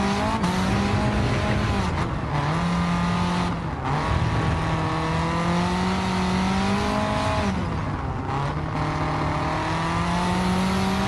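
Renault race car in Gran Turismo, a loud continuous engine drone rising and falling through gear shifts and revving along the track, with a few brief drops as the car brakes or shifts.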